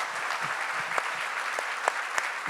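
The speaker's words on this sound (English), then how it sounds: "So a big round of applause for just the amazing team" A festival audience applauds at a literary session, a steady, moderately quiet wash of clapping with a few sharper individual claps standing out.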